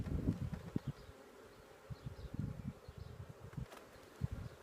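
Honey bees hum and buzz as they are shaken into a hive box above a queen excluder, amid bumps and rustling close by, with a dense, restless drone underneath.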